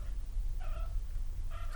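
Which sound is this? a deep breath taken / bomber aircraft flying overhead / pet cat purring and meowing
pet cat purring and meowing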